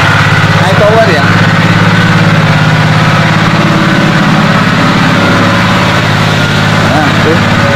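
A steady, unbroken engine hum from an AIPOWER 3500 PRO high-pressure washer used for washing a car, running close by for the whole stretch while someone talks over it.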